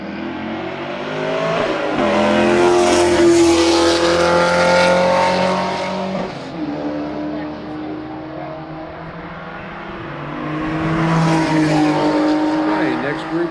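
Race cars pull out onto the Summit Point track, led by a green Camaro and a Tesla, with engines rising and falling as they pass close by, some tire noise, and people talking throughout.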